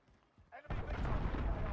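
A cruise missile launch in Call of Duty Modern Warfare, quiet rumbles giving way to a sudden loud roaring blast that stays sustained and dense to the end.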